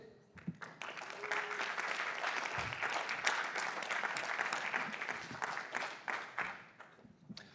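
Conference audience applauding as a pitch presenter is welcomed to the stage at a journalism pitch showcase, a dense sustained round of clapping swelling then tapering off.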